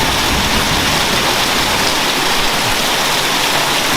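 A dense, steady downpour roars close by, a continuous wash of rain noise with nothing else standing out.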